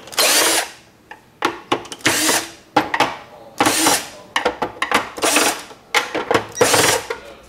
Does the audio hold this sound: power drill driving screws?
yes